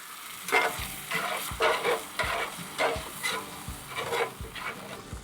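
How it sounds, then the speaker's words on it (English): Garlic stirred in butter in a pan, with soft sizzling under a regular series of spoon or spatula scrapes against the pan, close and fairly quiet. "We'll give that a bit of a stir."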